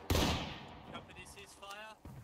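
A single loud musket volley in the Civil War video game War of Rights, a sharp near crack that fades into a rumbling tail while voices talk.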